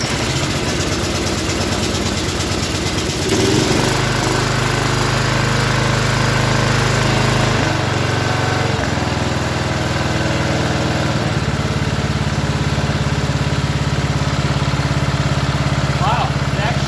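A Snapper riding mower's small engine, fitted with a Chinese-made carburetor, starts and runs steadily, close and loud, with its pitch dropping to a lower idle partway through.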